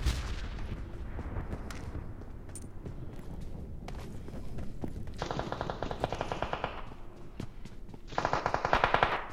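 Gunfire in a shooter video game: scattered single shots, then two dense bursts of rapid automatic fire that sound loud and close, with no talk.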